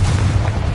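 Explosive Bombarda and Confringo spells going off in the video game Hogwarts Legacy, a loud, dense low boom that rumbles on for under a second with no voices.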